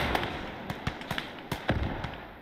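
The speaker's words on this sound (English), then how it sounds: "Just launched directly at us. We're now in a rocket fight." Rockets in a Gates of Hell rocket fight go off in a string of sharp cracks and thumps, several distinct launches and impacts in quick irregular succession over a rumbling battlefield bed.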